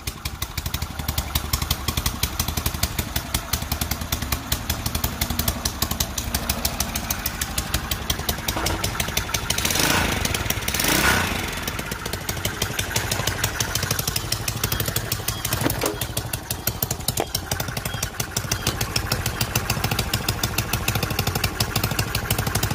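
A 1969 Honda CT90 motorcycle fitted with a Piranha 140cc engine and its original CT90 exhaust idles steadily and fairly quietly nearby, with a brief swell in engine noise midway.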